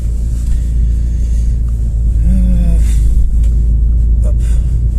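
A car driving at night in sport mode gives a steady, loud low engine rumble with a slight rise in revs, continuous and close, inside the cabin with no talk.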